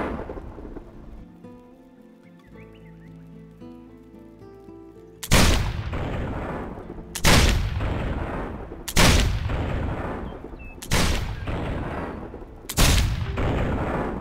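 Cannon in the video game Risen 2 firing at a gate, five loud booming blasts in a slow, steady rhythm. Each blast fades into a rumbling tail, and a quieter stretch of game ambience comes before the first shot.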